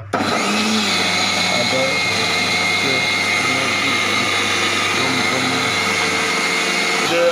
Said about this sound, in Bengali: টোটো ভিভো কোম্পানির আদা ব্লেন্ডার অনেক সুন্দর হচ্ছে।